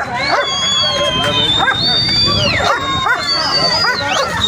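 A pit bull barks and yips repeatedly near and loud, amid a busy, noisy crowd with high chirping in the background, likely at a bustling market.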